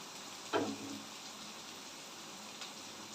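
Chopped onions sautéing in a pan for Tamil-style egg gravy give a steady, soft hiss and crackle that runs unbroken throughout, with one brief louder scrape or stir near the start.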